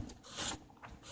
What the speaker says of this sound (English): This is supposed to be a water sand paper, but I'm using it dry.